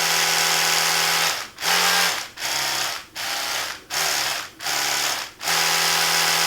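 An Oral-B Genius 9000 electric toothbrush buzzes loudly and close, its steady motor whine broken by short regular pauses and slight pitch shifts as it cycles through modes, with no talking.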